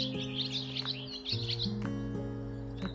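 Birds chirping on a spring day with flowers in bloom, bright twittering calls coming in repeated bursts over a steady low background hum.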